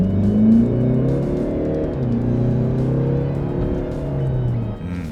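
A Mercedes-Benz GLE 300d diesel engine revs up hard, pitch climbing through gear changes, loud and close, with a brief dip near the end before building again.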